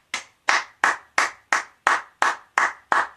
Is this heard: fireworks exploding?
no